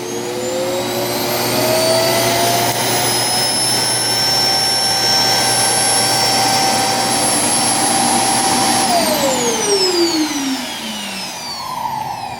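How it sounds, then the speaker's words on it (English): A loud, steady mechanical whir from an iRobot Roomba S9+ self-empty base station, with a rising high-pitched whine that holds, then drops in pitch as the motor winds down near the end. "did I mention that base station, the self-empty bin, is quite loud"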